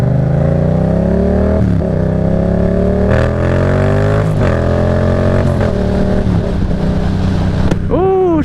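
A Yamaha FZ-07 motorcycle accelerates hard, its loud, close engine rising in pitch and dropping back at each upshift through several gears, over wind noise.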